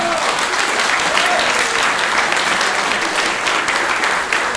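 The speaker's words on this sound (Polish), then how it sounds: "Proszę wielkie brawa!" Sustained, dense applause from a large audience fills a hall at a medical software users' convention award presentation, steady and loud throughout without pause.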